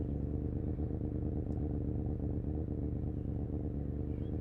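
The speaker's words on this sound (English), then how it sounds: "You can hear the sound of other bikes on the mountain." Motorcycles run on the mountain course in the Isle of Man TT 3 video game, giving a steady, droning engine rumble with a rough, buzzy edge that holds at an even level throughout.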